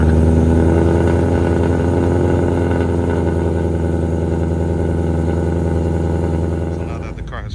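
A 2024 Ford Mustang GT with a Whipple supercharged engine idles after an automatic start, a loud steady rumble with a deep low throb that drops off slightly near the end.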